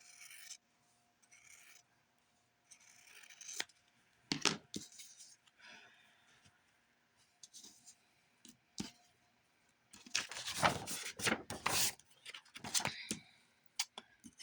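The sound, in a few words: cutting quilt fabric pieces with scissors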